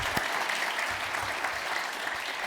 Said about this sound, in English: please, round of applause to all of them.